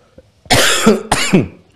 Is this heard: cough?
yes